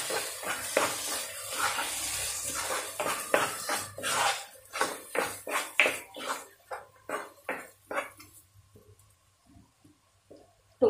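Onion paste is stirred and sautéed in a pan for chole masala, with a run of clattering spoon-on-pan scrapes and knocks over steady sizzling that thins out and grows sparser toward the end, close and moderately loud.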